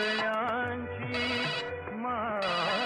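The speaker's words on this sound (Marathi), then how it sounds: "कधीचा फोन वाजतो" A telephone ringtone plays a bright electronic melody in repeating bursts, loud and close, with no voices over it.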